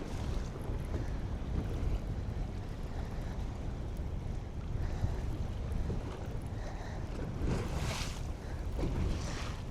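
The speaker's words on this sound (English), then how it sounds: "It's a lot of wind." Strong wind rushes over open water around a bass fishing boat, a constant broadband roar with gusty buffeting against the microphone and small splashes of waves, no voices.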